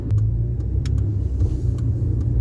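Car with a CVT pulling away from a stop, a steady low engine drone and road rumble that stays fairly level rather than rising through gear changes, with a few faint clicks over it.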